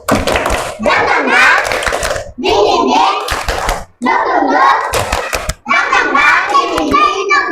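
Schoolchildren chant a 'tepuk semangat' clapping rhythm, clapping their hands in loud bursts while their voices chant along, with short pauses between phrases.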